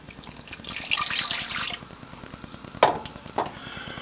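Water poured from a cup into a saucepan holding butter and milk for devil's food cake batter, a short splashing pour up close, followed by two sharp clinks.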